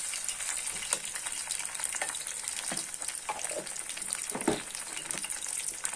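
Ginger paste, with garlic paste added, fries in oil in a pan, giving a steady hiss with scattered crackles and occasional stirring scrapes at moderate, fairly soft volume.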